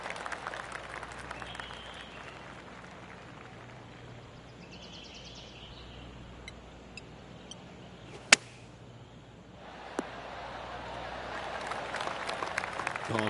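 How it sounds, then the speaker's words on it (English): A gallery crowd in the PGA Tour 2K23 golf game gives a polite golf clap that swells into steady applause over the last few seconds, following a quiet stretch with a sharp click and faint speech. "Oh, golf clap."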